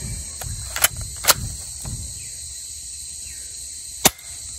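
Shell-ejecting Colt 1911 toy pistol fired at a range, a few sharp snapping shots with uneven gaps, three close together early and one more after a pause, against a faint steady background hiss.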